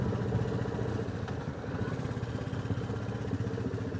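A Royal Enfield Classic 350 thumps along at a steady, low, throbbing beat, heard close and continuous while being ridden at night.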